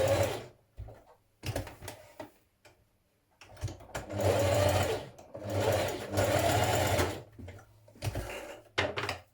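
A sewing machine stitches knit dress fabric in several short bursts of running, pausing between runs with longer, steady passes toward the end, close and clear with no talk.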